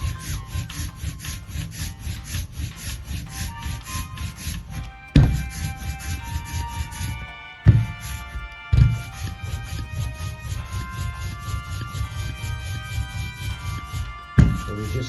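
Linocut printing ink, tacky, rolled back and forth across an acrylic sheet, a steady sticky rasping crackle with a few louder thumps as the roller is lifted and set down, close and continuous.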